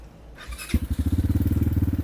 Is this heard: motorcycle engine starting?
yes